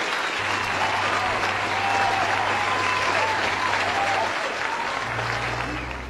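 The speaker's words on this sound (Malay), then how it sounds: "Tepuk lah, tepuk, tepuk." An audience at a televised quiz show claps continuously in loud, dense applause that holds steady and then fades slightly at the end.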